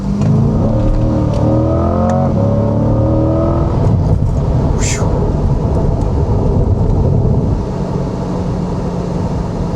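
A C8 Corvette engine revs up through the gears, a loud climbing growl from inside the car with a steady road roar underneath.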